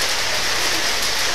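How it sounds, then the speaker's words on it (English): Rain falls steadily on surfaces at an outdoor conference in Belize, a dense even patter with no voices over it. "I know it is raining and we're coming close to the end"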